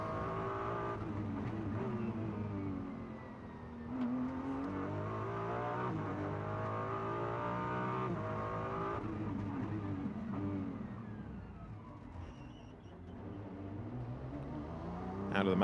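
Ferrari GT race car from the Harmony Racing team at speed on the Macau Guia Circuit, engine roaring steadily with gear-change dips and rising revs, close and loud throughout.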